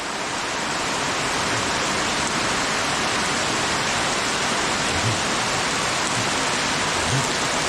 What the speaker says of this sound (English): The heavens have opened up.